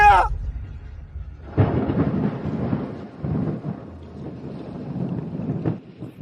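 Thunder before heavy rain rumbles low and long in deep rolling waves, with wind noise against the microphone and a brief higher tone at the very start.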